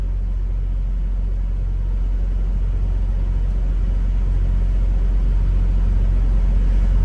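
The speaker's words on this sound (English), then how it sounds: "the truck and shit in the road was loud as fuck" A truck and road traffic make a loud, steady, low rumble that fills the whole stretch without a break, with no voices over it.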